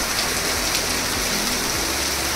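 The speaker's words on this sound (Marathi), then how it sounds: "2 दिवस भरपूर पाऊस पडतोय." Monsoon rain comes down over a village in the Konkan, a dense steady hiss of drops striking surfaces, continuous and fairly loud with faint low rumbles beneath.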